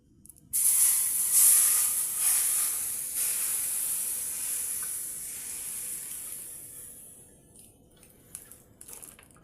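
Milk is poured into a hot pan just used for frying oats for payasam, and a loud, bright sizzling hiss bursts up at once. It stays strong for several seconds, then slowly fades to a softer simmer with a few small pops.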